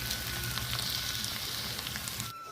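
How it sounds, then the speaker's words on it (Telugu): Potato pieces fry in hot oil with a close, steady sizzle and crackle, faint and unbroken until it drops away abruptly near the end. "నూనెలో చక్కగా వేగనివ్వండి"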